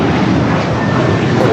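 Boeing 777-300ER jet rolling down the runway at LAX, a loud, steady broadband roar of engines filling the short stretch, with a voice talking over it.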